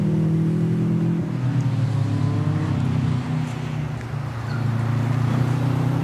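Subaru rally car engine running steadily and loud through a khanacross run at Ringwood during an Australian championship, a close, sustained drone that eases slightly then builds again.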